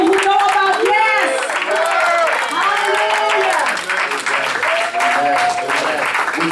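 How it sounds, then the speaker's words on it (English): Church congregation clapping hands in praise after prayer, dense steady applause with a crowd murmur and a voice speaking over it. "give God a hand clap of prayer"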